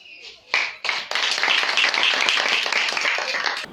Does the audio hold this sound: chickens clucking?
no